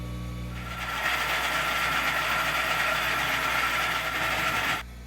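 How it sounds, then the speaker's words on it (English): A 1/2 inch four-flute end mill on a round column mill sinks a counterbore into metal over a 1/4 inch pilot hole, giving a steady, loud mechanical whir and cutting hum that holds evenly and then stops abruptly near the end. "I will counter bore using this 1/2 inch 4-flute end mill"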